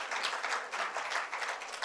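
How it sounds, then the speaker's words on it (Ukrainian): A church congregation applauds during a sermon, producing a short, moderately quiet spell of many hands clapping with a slightly uneven, pulsing rhythm. "Я думаю, дайте оплески Сашку сьогодні."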